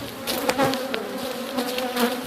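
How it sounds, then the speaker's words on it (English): Honey bees buzzing as they are shaken off a frame from a large backyard hive, a steady, close, dense drone with no pauses that swells slightly in places. "Shaking quite a few bees off."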